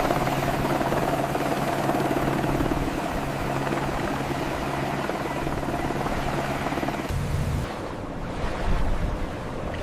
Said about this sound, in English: Don't you just love the sound of the waves?